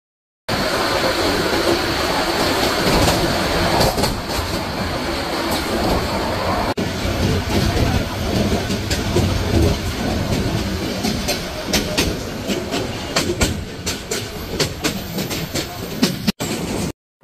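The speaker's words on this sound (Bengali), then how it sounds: "আজকের পর্যটক এক্সপ্রেস ট্রেনটি ঢাকা থেকে কক্সবাজার উদ্দেশ্যে ছেড়ে যাচ্ছে।" The Paryatak Express train leaves Dhaka for Cox's Bazar, a loud, sustained rumble of carriages and wheels on the rails with rattling and intermittent clicks, heard close up with no clear voices.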